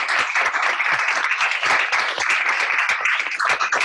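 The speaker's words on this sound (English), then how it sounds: "Please, a round of applause for Sheila and Asma" Audience at a book talk at a university interfaith center applauds the speakers, a steady burst of dense clapping at moderate volume lasting a few seconds.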